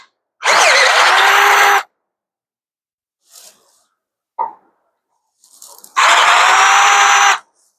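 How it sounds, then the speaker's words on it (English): A power drill bores holes out to half an inch in a truck frame during a lift install: two loud, sustained close bursts of high whine separated by a quiet stretch with a few small clanks. "we got to drill these holes out in the frame 2 to a 1/2 inch to accommodate the larger hardware"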